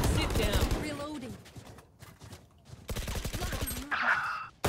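Gunfire in the video game Valorant crackles in quick rapid bursts of shots, mixed with game effects and a player talking over the action.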